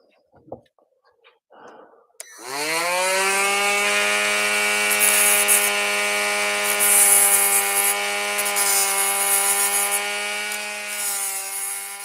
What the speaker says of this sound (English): using a Dremel as a belt sander is not ideal